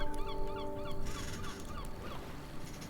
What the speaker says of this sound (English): I'll pick up the seagull rock that is still over here playing seagull sounds